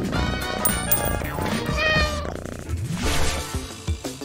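A cat meows loudly several times in close succession over a busy backdrop of music and other sounds.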